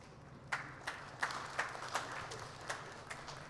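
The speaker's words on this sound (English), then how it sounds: "a big round of applause to cybersecurity and also UTM" Sparse, light clapping from a conference audience at a cybersecurity event, a handful of separate claps spread over a few seconds, faint and fairly distant.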